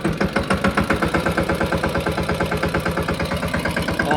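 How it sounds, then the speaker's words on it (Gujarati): A mini tractor engine on a farm, running with a steady, loud, rapid knocking chug, an even mechanical rhythm with no talk over it. "હવે ચાલુ કરી દઈએ આપણે ટ્રેક્ટરને"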